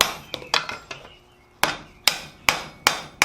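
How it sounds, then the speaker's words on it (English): Sharp rawhide mallet blows strike metal while forging a dinner bell, about a dozen hits in an uneven rhythm, close and fairly loud, each ringing briefly before fading. "I've switched to using a rawhide mallet just because I don't need the force of a regular hammer"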